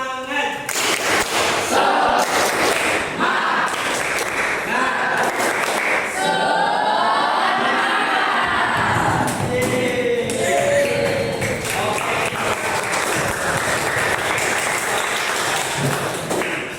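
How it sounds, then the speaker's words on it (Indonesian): Children in an Indonesian classroom clap together in a quick rhythmic spirit-clap pattern, loud and close, mixed with chanting voices and bursts of applause. "Tepuk semangat."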